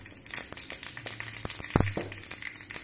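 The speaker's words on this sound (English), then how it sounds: "just add in a teaspoon of vegetable oil and heat it up. Add in the cumin seed and the mustard seeds." Cumin and mustard seeds sizzle in hot vegetable oil in a pan, a close, steady crackle broken by a few sharp pops.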